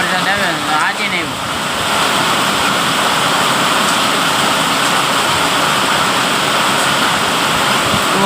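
Heavy rain pounds a metal sheet roof in a steady, loud, close roar that holds for the whole stretch, with a brief voice near the start.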